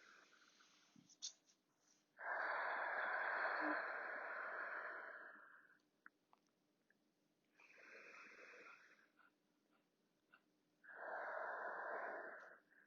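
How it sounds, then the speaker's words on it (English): Slow, audible breaths exhaled through the mouth during a stress-relief yoga session, three long breathy blows, each a couple of seconds, with quiet pauses between them, close and fairly soft. "Take your next 2 to 3 breaths out of the mouth."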